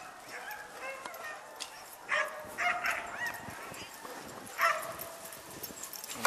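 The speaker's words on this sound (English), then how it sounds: "Alright, you guys, see all these dogs?" Sled dogs in an outdoor dog yard bark and yip in a busy chorus, several animals at mid distance with bursts of louder barking over constant background noise.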